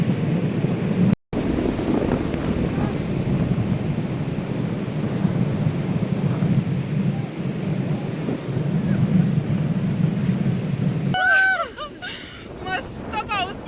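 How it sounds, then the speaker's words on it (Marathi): Steady rain pours down on a beach in a thunderstorm, a dense, continuous hiss that fills the scene, with a brief dropout early on. Voices break in near the end. "मस्त पाऊस पडतोय, आम्ही बीचला आहोत"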